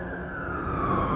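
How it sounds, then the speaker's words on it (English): A fire truck siren wails as it crosses LaSalle Street in Chicago, a steady rising tone fairly loud over dense city traffic rumble, with no talk. "We got sirens here."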